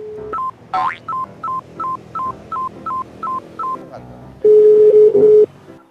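A telephone keypad dials a quick run of about ten evenly spaced DTMF beeps, clear and close. A longer, steady tone follows, with no talking over it.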